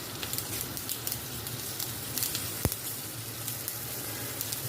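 Green chilies roast in a pan with turmeric and salt, a soft continuous sizzle with light crackles and one sharp tap partway through, no voices.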